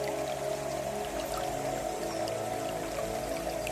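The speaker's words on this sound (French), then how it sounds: "Puis la cascade devient rivière." A waterfall pours into a river with a steady, dense rush of water, constant and full across the whole stretch, with faint droplet splashes scattered on top and no voices.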